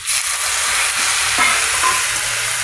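A little water goes into a prawn curry with kochu flowers in a hot pan, a loud continuous sizzle with a couple of soft utensil knocks, no speech.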